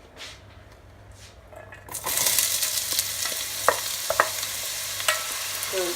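After a quiet start, onion and garlic hit hot olive oil in a pan for a vegan minestrone, bursting into a loud, steady sizzle with occasional stirring clicks.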